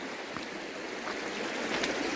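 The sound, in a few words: water flowing in a stream near a bridge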